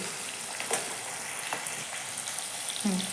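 Tomatoes and green chillies sizzle steadily in a pan as masala, turmeric and garam masala go in, a constant soft frying hiss with occasional stirring scrapes, heard alone.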